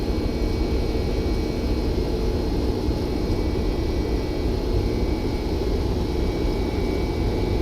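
Boeing 767-300 jet engines roaring steadily on the takeoff roll in the X-Plane 11 flight simulator, a loud, continuous broadband rumble with no talk.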